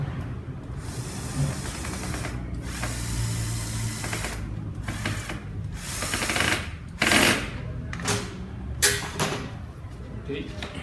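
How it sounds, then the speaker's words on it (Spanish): Mechanical clicks, scrapes and a few sharp ratcheting bursts come from a screw being tightened on a SOLO PORT 423 fogger sprayer, heard close up over steady background hum and faint room noise. "Procedemos a ajustar el tornillo"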